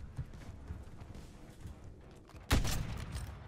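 Call of Duty-style shooter game gunshot, one sharp loud crack late in the short stretch, after quieter shuffling and faint thumps.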